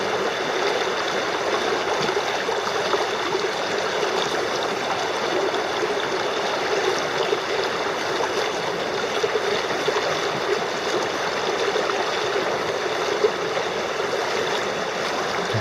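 Steady broadband rush of the Rogue River flowing past a working gold dredge, continuous and even with no talk, a constant watery hiss filling the whole stretch.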